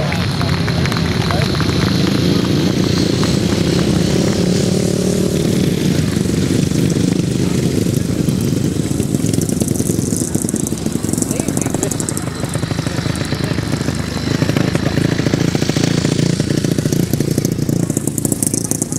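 Grasstrack motorcycles racing at the 2009 British Masters, a continuous loud roar of revving engines throughout, with a commentator talking over it.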